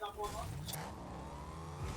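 A car engine in the video game Fortnite revs and accelerates in a steady rising drone, fairly quiet, with a voice briefly present.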